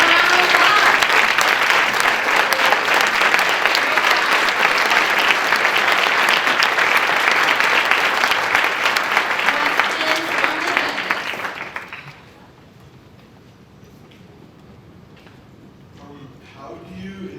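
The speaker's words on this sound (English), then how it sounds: "Give them a round of applause." A school audience breaks into loud, sustained applause for about twelve seconds, then it cuts off abruptly to a quiet room with faint murmurs.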